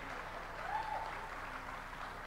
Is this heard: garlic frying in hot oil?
no